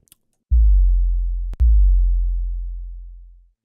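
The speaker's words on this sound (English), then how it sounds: "So what I did in Serum was I just pulled up a basic, a basic sine wave." A pure, low sine tone from the Serum synth sustains for about a second, cuts briefly, then returns and slowly fades out, clean and steady with no accompaniment.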